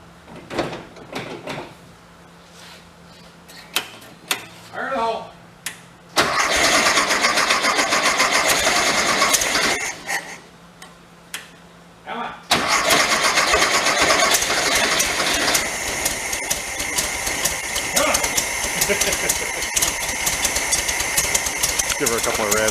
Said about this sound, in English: Let's give her a crank, see what we get.